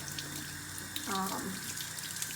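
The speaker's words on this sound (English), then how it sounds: "Just kind of rinse it as thoroughly as you can stand to rinse it." Cross stitch fabric rinsed by hand in a bowl of soapy water, a soft steady wash of water with a brief splashing swirl in the middle, close and fairly quiet.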